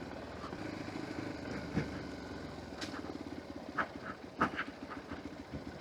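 A Hero XPulse 200 4V Pro motorcycle on the move gives a faint, steady engine drone with a few small bumps and ticks, with no talk over it.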